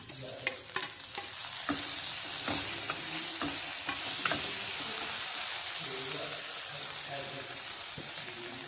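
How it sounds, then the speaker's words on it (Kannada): Okra (lady finger) and tomato pieces fry in hot oil in a pan, giving a steady, close sizzle broken by sharp spatula scrapes and clinks as the pieces are stirred. "ಬೆಂಡೆಕಾಯಿ ಎಣ್ಣೆಲಿ ಫ್ರೈ ಆಗಿದೆ ಸೊ ಈ ಟೈಮಲ್ಲಿ ಟೊಮೊಟೊ ಈ ಟೈಮಲ್ಲಿ ಟೊಮೊಟೊ ಹಾಕೊಂಡಿದ್ದೀನಿ ನೋಡಿ"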